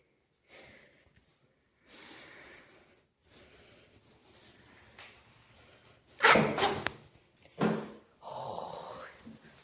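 A puppy at the vet sniffs and snorts in short bursts, with a few louder scuffling knocks partway through, close by and mostly free of talk.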